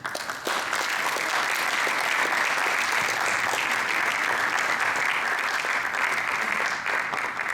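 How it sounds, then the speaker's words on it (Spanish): An audience gives a speaker a loud, sustained welcome of dense applause, with many hands clapping steadily and close for several seconds. "a quien recibimos con un fuerte aplauso"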